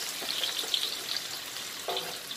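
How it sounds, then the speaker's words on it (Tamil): Chopped onions frying in hot oil in a pan, a steady close sizzle and crackle with light stirring, no voices. "அடுத்து நீங்கள் வந்து வெங்காயம் வெட்டி வச்சுருக்க வெங்காயத்தை போடலாம்."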